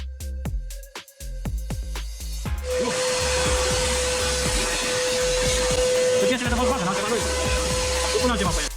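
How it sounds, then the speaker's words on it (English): A series of clicks and taps gives way to a loud, steady vacuum cleaner drone with a constant whine that runs to the end, cleaning the air filter housing of a BMW X3 G01. "Remove the old air filter and use a vacuum cleaner to remove any dirt."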